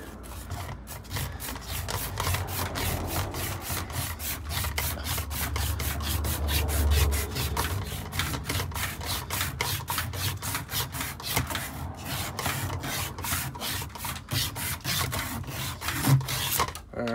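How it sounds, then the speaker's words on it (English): Surface of a 400D fiber optic splice closure being sanded by hand, close rapid rhythmic rasping strokes running steadily throughout with a low background hum. "So go ahead and sand this up as well."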